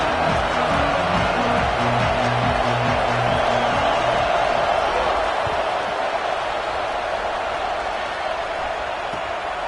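A dense, roaring football stadium crowd fills the air with continuous loud noise, and a few low horn-like tones sound early on over the steady din.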